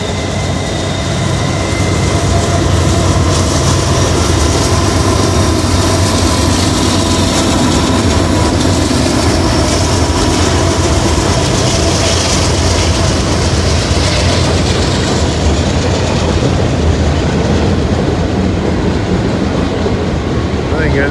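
A Norfolk Southern intermodal freight train rolls steadily past near the Kenova Bridge in West Virginia, loud and close, with continuous rumble and wheel clatter for the full length.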